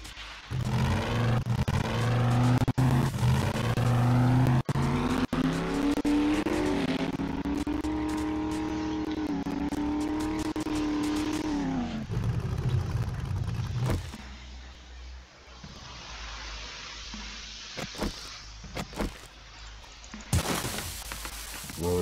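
A truck engine in 7 Days to Die drones loudly and steadily, its pitch rising and wavering as it drives, then cuts off to quieter background before a brief burst at the end.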